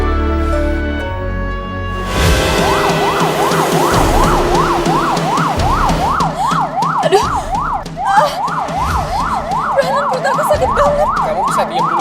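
An ambulance siren wails loudly in a rapid, repeating rise and fall, starting after two seconds of quieter background and continuing steadily to the end.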